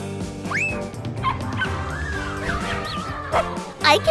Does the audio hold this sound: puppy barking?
yes